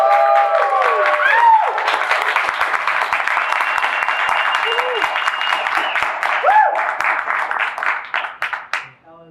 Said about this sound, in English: So let's give a huge round of applause to Dr. Nikhil Garg